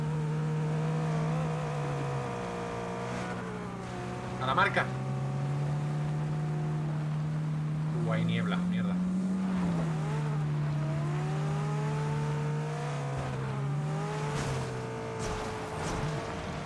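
Car engine in PUBG running at a steady drone with gentle pitch rises and falls as the vehicle drives, continuous throughout with brief bumps, while players talk over it.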